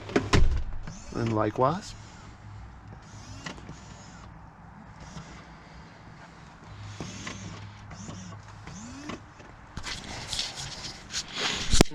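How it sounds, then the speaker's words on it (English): Electric motors whir and click as the power-folding rear seats of a 2020 Lincoln Corsair lower, with a faint mechanical hum and soft clunks. Someone talks briefly over it in a quiet cabin. "We've got our power folding seats. Push the button and they go down."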